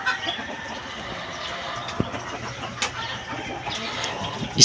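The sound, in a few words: pullet chicken clucking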